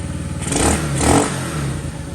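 A minibike engine idles as its top idle is adjusted, a close, continuous chugging drone that swells twice as the throttle is nudged.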